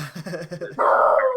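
A dog whimpers in a short series of high yips, then lets out a louder, sustained whining howl, close and clear.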